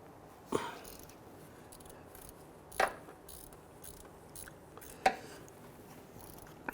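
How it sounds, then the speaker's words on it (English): A ratchet turning a 14 mm deep socket through the wheel well loosens the belt tensioner bolt on a 2006-2012 Toyota RAV4 3.5L V6, giving three separate, fairly faint clicking bursts spaced about two seconds apart in a quiet garage. "We can use a 14 millimeter deep socket through the wheel well and our ratchet. Let's go ahead and loosen that."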